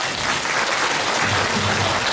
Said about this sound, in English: Can we give Nancy a round of applause？